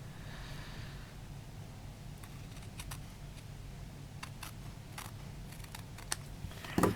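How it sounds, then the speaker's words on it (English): Faint, quiet snips of glue-coated scissors trimming card, several short crisp clicks scattered irregularly, a slightly louder cluster near the end, over a low hum. "I'm just going to trim that edge off with my gluey scissors"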